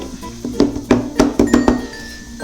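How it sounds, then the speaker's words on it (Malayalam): A pressure cooker and a pot are handled in a home kitchen while an eggless Oreo cake is prepared without an oven. Several sharp metallic clinks and knocks sound up close, in an uneven rhythm, with no talk. "അപ്പോൾ നമ്മളൊരു കുക്കർ എടുത്തു."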